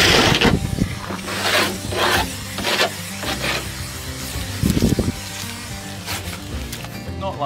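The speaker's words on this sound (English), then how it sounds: "I'm just going to remove the burrs." Burrs being filed off the freshly cut metal edge of a van window opening during a camper conversion, a series of close rasping scrapes in irregular strokes, fairly loud and with no talking.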